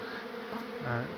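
A swarm of honeybees buzzes inside the wall of a building at a steam rally during a hive relocation, a dense, steady, close hum that swells slightly toward the end.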